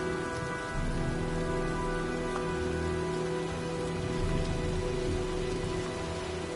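Steady, dense rain from a storm in the video game Heavy Rain pours down without a break, a loud continuous hiss of drops striking surfaces, heard alone.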